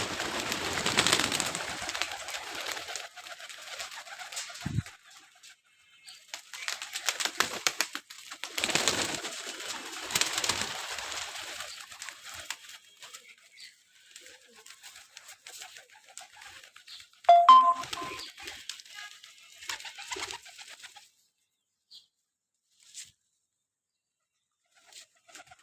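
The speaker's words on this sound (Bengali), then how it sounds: "কবুতরগুলা খাচ্ছে।" Pigeons feed close by, with soft cooing and scattered pecking and fluttering patter that come in bursts and then fade toward the end.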